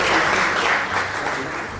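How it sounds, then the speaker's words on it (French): Audience applause at a motivational conference talk in French, steady and dense clapping from a crowd throughout, fairly loud and without speech over it. "Est-ce qu'on peut l'applaudir?"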